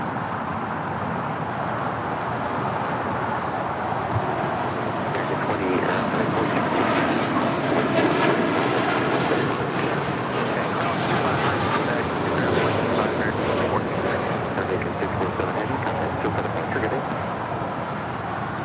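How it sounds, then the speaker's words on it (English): An Aeromexico Boeing 787-9 Dreamliner takes off from LAX, its engines making a broad, steady roar that swells slightly midway and holds at a distance throughout. "That's Aeromexico 647 taking off to Mexico City on a 787-9 Dreamliner."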